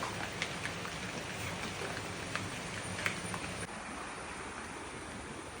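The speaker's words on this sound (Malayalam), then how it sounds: "മഴ ചെറുതായിട്ട് ചാറ് കളിക്കുന്നുണ്ട് കേട്ടോ" Light rain drizzles outdoors near a river, a soft steady hiss with scattered faint drop ticks, quiet and uninterrupted.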